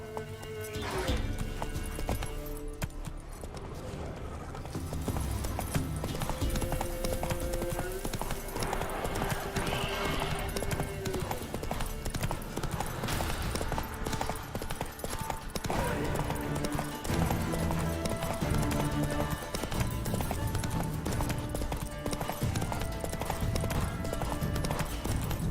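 Horse galloping in The Witcher 3, with steady clip-clop hoofbeats and occasional whinnies running throughout under game music and faint talk.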